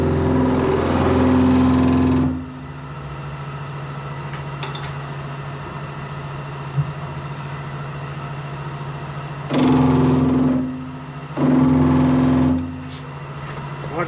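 A wood lathe hums steadily while a tenon is turned on a ring box, with loud bursts of the cutting tool biting into the spinning wood at the start and twice near the end.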